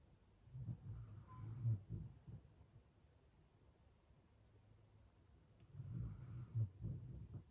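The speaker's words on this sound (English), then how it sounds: "Excuse the snoring." Two slow, rumbling snores several seconds apart, soft and low, with quiet breathing between them.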